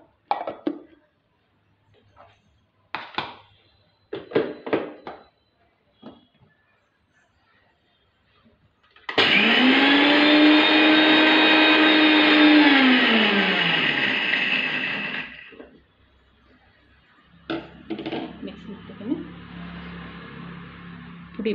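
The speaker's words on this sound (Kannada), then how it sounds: "ಇದನ್ನು ಮಿಕ್ಸಿ ಮಾಡ್ಕೋಬೇಕು." A kitchen mixer grinder whirs through roasted gram for about six seconds, its motor whining up to a loud steady pitch before winding down, with someone talking in short bursts before and after.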